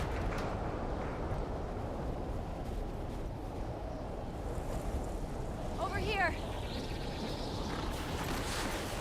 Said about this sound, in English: Careful when you get up here. It's pretty windy.